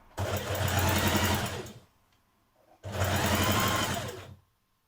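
A sewing machine stitches a trouser seam in two loud, steady runs of rapid mechanical whirring separated by a short pause, close up with no talk.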